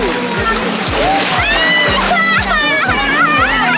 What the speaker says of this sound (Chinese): 虽然是晚上了，海浪依然很活跃。